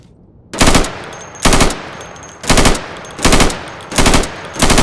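Loud bursts of automatic gunfire from a rifle or LMG in the game Insurgency, fired through plywood at targets, six evenly spaced bursts about a second apart with short pauses between.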